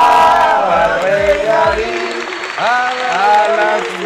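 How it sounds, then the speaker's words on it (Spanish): A television studio audience claps and cheers for a birthday, with loud whooping voices and shouted cheers riding over the clapping and swelling again midway. "un fuerte aplauso por su cumpleaños"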